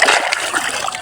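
River water splashing steadily close by, a continuous bright splatter and trickle with faint gurgling, fairly loud throughout.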